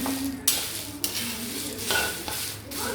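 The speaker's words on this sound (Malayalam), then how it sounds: "ഇതിങ്ങനെ ഇളക്കി ഇളക്കി ഇളക്കി കുറേ സമയം നിൽക്കണം" Wild jack (anjili) seeds roasting in a pan are stirred in repeated scraping sweeps, a spatula rasping against metal every second or so over a soft continuous sizzle.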